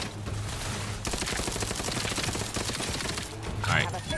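Rapid gunfire in The Outer Worlds 2, a dense burst of crackling shots from back-row snipers and other guns, sustained and busy with a brief lull, no speech over it.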